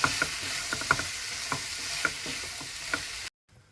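Garlic sizzles and fries in a pan, a soft steady crackle punctuated by scraping stirs, then cuts to near silence at the end.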